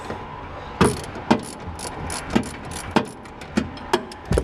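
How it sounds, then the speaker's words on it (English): A ratchet with a deep socket works a coilover bolt on a supercharged Miata, giving sharp metallic clicks in short uneven bursts about every half second over a faint background hum. "This one I'm just going to use a deeper socket just so I'm not hitting on this stuff."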